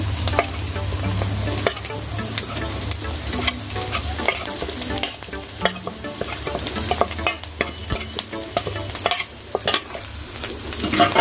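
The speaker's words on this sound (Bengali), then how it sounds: "আমার আদা বাটা রসুন বাটা ভাজা হয়ে গেছে এখন আমি রেগুলার মশলাগুলো দিয়ে দিচ্ছি" Spices fry with ginger and garlic paste in a pan for a catla fish curry, stirred steadily. A loud, close, continuous sizzle runs throughout, broken by frequent scraping stir strokes, with no talking.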